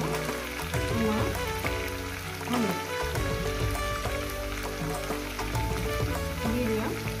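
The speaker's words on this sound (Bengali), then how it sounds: "7-8 মিনিট ধরে আমি আলু আর পেঁপেটাকে সুন্দর করে ভেজে নেব।" Potatoes and papaya frying in a pan make a continuous crackling sizzle, close and even, while a voice speaks over it.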